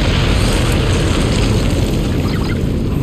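Detonators going off in the Star Wars Outlaws video game, a loud, dense, sustained rumbling blast that fills the short clip without pause.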